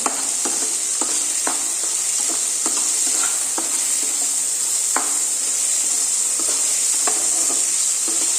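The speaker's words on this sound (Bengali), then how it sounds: "সুন্দর করে এবার ভাজবো নাড়া দিয়ে দিই তেলের সাথে আলুর সাথে মিশিয়ে ভালো মতন একটু নাড়া দিয়ে নিই" Chickpeas and potatoes fry in oil with a loud, constant sizzle, and a spoon stirs them in repeated scraping taps against the pan.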